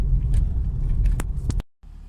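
A Mercedes-Benz X350d pickup rolls along a dirt road, its steady low engine and tyre rumble close and continuous, with a few light rattles before the sound cuts out briefly near the end.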